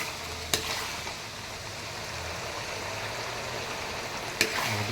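Chili stirred in hot frying oil gives a steady close sizzle throughout, with two sharp scraping clinks of the utensil near the start and end.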